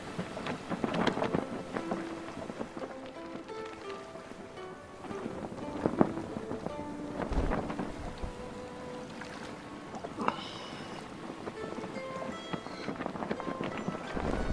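A small boat sails across open water in the survival game Stranded Deep, with a steady wash of water and wind, occasional splashes and soft creaks, and a faint background musical tone.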